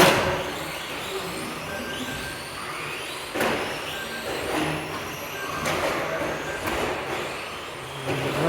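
Racing trucks lapping a circuit through a chicane, engine roar rising and falling as they pass, with sharp air-brake hisses and passing bursts, fairly close over a steady background din.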